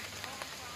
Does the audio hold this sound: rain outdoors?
yes